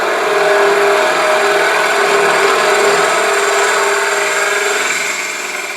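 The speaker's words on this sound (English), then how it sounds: "I'm going to go ahead and start hollowing down from here." A woodturning tool hollows a fluted wooden pot spinning on a lathe, giving a loud, steady scraping hiss that runs continuously, close up with no talk, easing slightly at the end.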